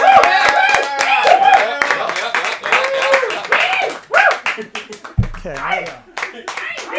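A live audience claps and applauds to welcome a stand-up comedian on stage. The clapping is dense and loud and gradually thins out, and a voice speaks over the applause throughout.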